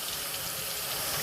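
Water from a kitchen tap runs in a steady, close hiss and splash without pause, with no talking over it, while sweet potatoes are peeled under it.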